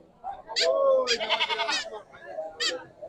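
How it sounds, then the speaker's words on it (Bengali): Goats at a village market for native goats bleat several times, loud and nearby, over people talking in the background. "দেখেন ছাগল আর ছাগল আমি আরো দেখাচ্ছি আপনার ভিতরে আছে ছাগল"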